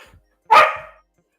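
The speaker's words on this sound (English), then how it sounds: "Your dog wants to talk." A single dog bark, loud and close, one short sharp burst standing alone with silence before and after.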